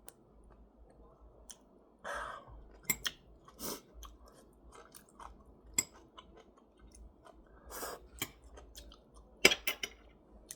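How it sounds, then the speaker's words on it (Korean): Someone eating spicy Shin Ramyun noodles, close wet chewing and slurping with scattered clicks of utensils against a bowl, intermittent and fairly quiet, no talking. "일단은 라면 먼저 먹고"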